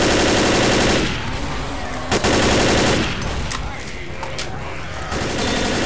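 Gunfire in the Left 4 Dead video game comes as dense, loud automatic bursts, with rapid sustained volleys broken by short lulls and sharp single shots.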